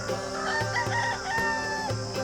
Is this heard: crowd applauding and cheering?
no